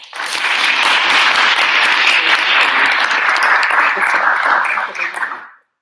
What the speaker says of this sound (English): Can we have another round of applause, please?